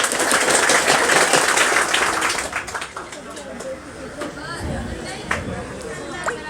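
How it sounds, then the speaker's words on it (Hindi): An audience at a Teachers' Day event claps loudly for their teachers, a dense burst of applause that fades after a few seconds into scattered clapping and crowd chatter. "उन हमारे उस गुरुओं के लिए आप लोग एक बार ज़ोर से ताली बजाएं।"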